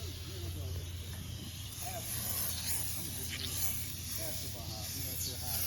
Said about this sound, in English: I'm gonna spray the whole bumper and then power wash it afterwards.